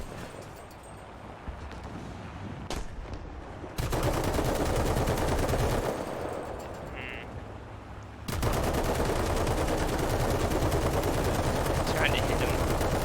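A tank's machine gun fires in War Thunder, aimed at aircraft: long, dense bursts of rapid gunfire with short pauses between them. Someone speaks over the shooting.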